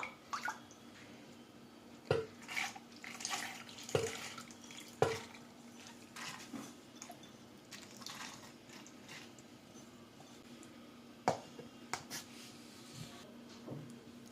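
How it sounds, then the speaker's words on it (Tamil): Water trickles and splashes in brief spurts as soaking water is drained off chickpeas and urad dal, with occasional clinks and knocks of a container in a quiet kitchen. "தண்ணியை வடிச்சிட்டு நம்ம அந்த கொண்டக்கடலையில சேர்த்துக்கலாம்"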